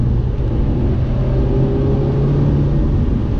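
A Mazda MX-5 engine drones loudly and steadily from inside the cabin, its low rumbling note rising slightly as the revs climb.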